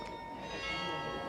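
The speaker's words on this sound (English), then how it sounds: "the bells play and they're playing my song." Church-style bells in Hameln ring a tune in the town square, bright sustained tones carrying from a distance, fairly faint and brief, with a murmur of voices beneath.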